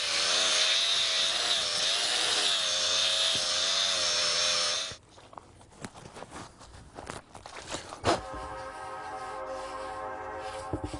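A power sanding disc working coarse saw marks off a wooden surface for rustic furniture, a loud whirring grind with a wavering pitch for several seconds, then quieter scraping and rubbing before a faint steady whine returns.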